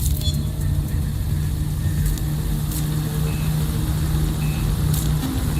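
In the video game Watch Dogs: Legion, a truck engine rumbles steadily, heard as a low continuous drone through a camera recording, with faint beeps and light clatter over it.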